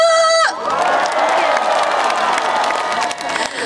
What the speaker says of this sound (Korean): 다 같이 함성과 박수!